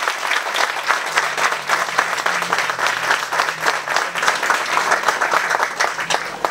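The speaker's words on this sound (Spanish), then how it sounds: "Eso merece el más grande de los aplausos de todos ustedes." Sustained applause from a crowd at a graduation ceremony in Moca, dense, even clapping throughout at a steady, fairly loud level with no voices over it.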